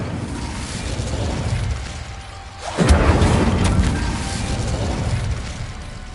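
An Incendio fire spell cast in Hogwarts Legacy bursts out as a sudden low whoosh and rumble, swelling loudly after a brief quiet dip and then fading into a lingering crackling roar.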